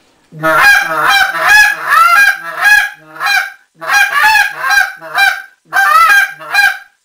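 A series of loud, raspy goose honks in rhythmic bursts, voiced close up by a person imitating geese on a goose-hunting call, with short pauses between runs.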